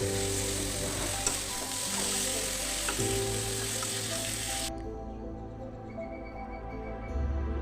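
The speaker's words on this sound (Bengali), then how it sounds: "এবার কষানোর পর আবার আলু এবং সাজনা এগুলো দিয়ে আবারও একটুখানি কষিয়ে নেব ভালো করে।" Spice paste with potatoes and drumsticks (sajna) sautés in oil, a dense close sizzle that drops abruptly partway through and then continues more quietly with faint stirring, with no speech.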